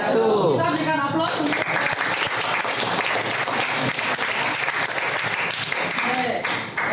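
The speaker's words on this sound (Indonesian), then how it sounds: "Kita berikan aplaus." Applause from a classroom audience at a madrasah teacher-training session, loud steady clapping filling the whole stretch after a brief voice at the start.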